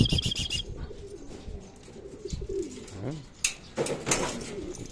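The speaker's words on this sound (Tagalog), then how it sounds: "Ayan yung mga ibon natin." Racing pigeons coo in a loft in Aliaga, Nueva Ecija, soft repeated throaty calls near the listener with occasional wing flutters and chirps, no talking over them.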